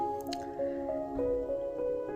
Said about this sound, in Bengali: কলসে মাছের তরকারিতে একটু গরম পানি দিয়ে ঝোল দিয়ে দিলাম